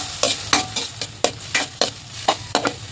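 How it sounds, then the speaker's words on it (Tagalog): Odong noodles are stirred in a pan, a utensil scraping and tapping against the metal in quick, regular strokes, close and alone over a faint background hiss. "Haluin natin."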